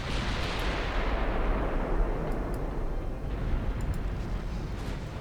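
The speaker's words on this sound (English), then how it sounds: "big 14-inch hits already on something" Heavy booming impact of 14-inch naval gun shells in Ultimate Admiral Dreadnoughts, a loud deep blast that rumbles and slowly fades, with a few faint distant pops after it.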